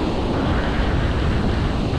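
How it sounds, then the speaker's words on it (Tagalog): Storm-driven ocean waves surge and wash continuously, loud and close, with broadband surf roar and wind buffeting the microphone throughout. "Ayan na naman yung alon."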